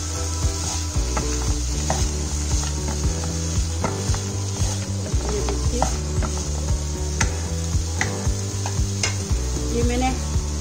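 Peanuts and samak rice fried in a pan and stirred, giving a steady sizzle with repeated scraping clicks of the spoon, heard over a continuous musical backing.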